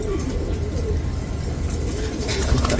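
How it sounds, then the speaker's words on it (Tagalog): A red stencil pigeon coos in low, repeated soft calls close by, steady throughout with a slight rise near the end, over faint background noise. "Ang ganda ng ibon. Red stencil ang tawag nila dyan."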